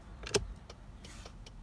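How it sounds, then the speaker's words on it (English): A 2012 Hyundai Veloster's left turn signal ticks inside the car, a few faint, evenly spaced clicks with one sharper tick near the start, against a quiet cabin hum. "So there is my left blinker,"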